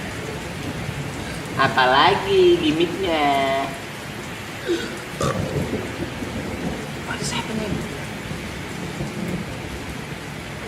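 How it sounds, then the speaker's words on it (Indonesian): Rain sound effect with thunder playing during a show, a steady hiss of rain with low rumbling, while people talk and exclaim over it. "Gimik apa lagi tiba-tiba ada hujan."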